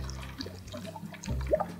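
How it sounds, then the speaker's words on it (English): Borax solution poured into a container for a bamboo tiki craft project, a soft gurgling trickle and glugging of liquid, faint and close, without talk. "we're going to take the borax solution and pour it right on in"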